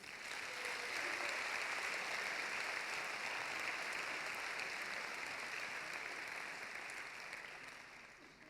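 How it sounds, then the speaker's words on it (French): A graduation diploma ceremony audience applauds steadily and loudly for about seven seconds, dense continuous clapping that tapers off toward the end. "Je vous demande d'applaudir très fort Nassim Djedou."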